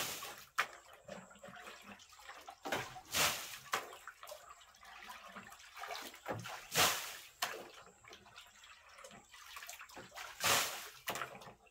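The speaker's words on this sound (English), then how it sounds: "I have nowhere to put the water, but to dump it out here." Water from a large bucket being dumped out onto the ground outdoors, a series of separate splashing pours and sloshes, each loud burst followed by quieter dribbling, repeating irregularly.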